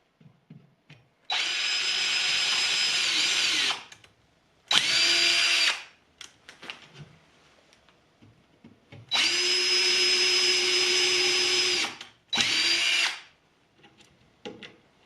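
Power drill driving screws through wood to join the frame of a bee hotel to its corner support pieces, heard in two pairs of loud whirring bursts, a long run and then a short one each time, with pitch dipping as each screw seats.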